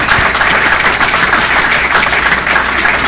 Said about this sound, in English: I think we all deserve to give them a big round of applause for themselves